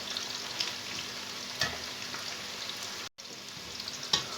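Steady crackling sizzle of potatoes frying in a pan, close and continuous, with a couple of soft clinks and a brief dropout.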